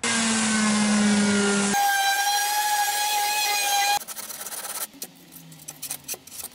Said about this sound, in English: I'm going to use the electric sander